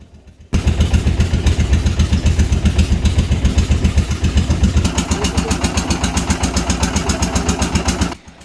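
A small trawler boat's engine on a Sundarbans channel near Dubla Island, chugging loudly and steadily at close range with a fast, even mechanical pulse from start to finish.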